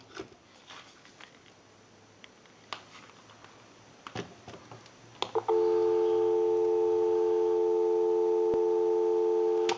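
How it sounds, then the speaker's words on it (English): A few faint clicks and handling noises on a Mickey Mouse novelty telephone, then a steady dial tone comes in loud and continuous, holding to the end. "We'll give you some dial tone."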